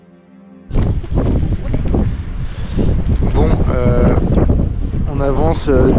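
Violent wind at Henningsvær, Norway, buffets the microphone in a loud, continuous roar that starts abruptly and persists, with a person talking over it.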